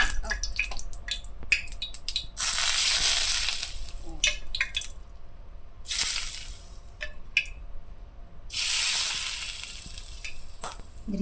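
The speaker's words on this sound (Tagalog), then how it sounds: "Nagpainit siya ng mantika sa isang pan at ibubuhos doon sa mga ricat." Hot oil poured from a pan over Sichuan peppercorns and chilies for a Chinese pork ear salad gives loud bursts of sizzling, three main surges with crackling drips and stirring between them.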